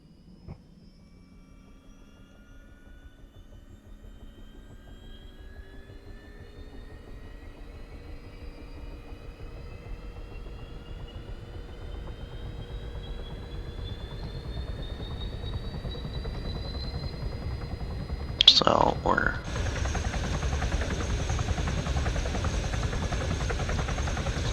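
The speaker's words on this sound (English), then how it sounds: "this aircraft is used by most militaries as a transport helicopter. In Canada we call it the Chinook." A Chinook transport helicopter starting up in the military game ARMA 3: a low turbine whine slowly rising in pitch over about twenty seconds, then a sudden mechanical clunk and a louder, steady engine roar.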